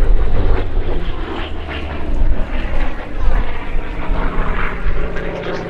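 Grumman F8F Bearcat with its 2,100-horsepower Pratt & Whitney Double Wasp radial engine at a Duxford summer airshow, a loud, steady propeller drone with rising and falling swells throughout, nearby and continuous.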